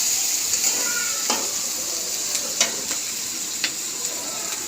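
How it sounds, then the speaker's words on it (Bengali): Chopped onion and green chilli frying with salt in a hot pan, a continuous bright sizzle close by, punctuated by a few light spatula taps and scrapes. "1 চা চামচ লবণ দিয়ে একটা ভেজে নেব"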